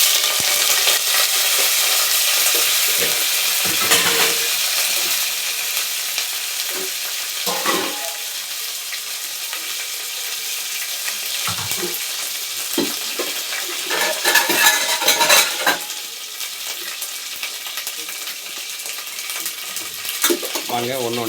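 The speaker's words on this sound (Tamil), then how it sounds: "மசாலா ஆட் பண்ண போகிறோம். எண்ணெய் ஊற்றிட்டோம்." Masala frying in oil for vegetable biryani sizzles steadily as a spoon scrapes and stirs in the pan, with intermittent clinks and knocks of metal against the vessel throughout.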